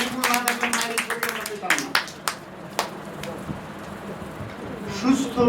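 Applause from an audience at a devotees' gathering, a burst of sharp claps early that thins into scattered hand claps, followed by a quieter stretch with a voice near the end.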